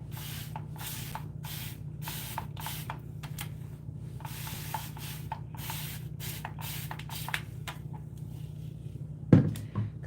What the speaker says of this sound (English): So we'll spray it.